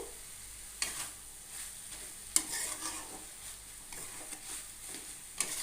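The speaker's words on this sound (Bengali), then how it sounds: "খুন্তি দিয়ে ভালো করে মিক্স করে নেব" A metal spatula stirs thick papaya curry in a pan, scraping in several distinct sharp strokes over a low steady sizzle, close and fairly quiet, with no talking.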